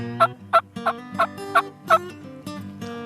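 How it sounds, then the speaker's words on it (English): A wild turkey gobbles repeatedly, six or so sharp rattling bursts in quick rhythmic succession, clear and fairly close with nothing else competing. "I like to hear them gobble."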